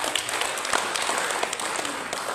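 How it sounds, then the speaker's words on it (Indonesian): A church service audience gives sustained applause, a dense even wash of many hands clapping with no breaks, fairly loud and filling the space. "Kita berikan aplaus lagi, hormat."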